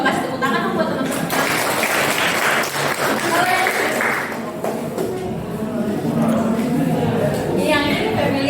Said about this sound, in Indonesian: kasih tepuk tangan dong buat teman-teman